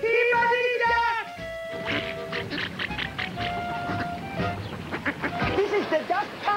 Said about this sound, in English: I'm here on the roof of the hotel to meet the stars of the parade, the world famous Peabody Duck.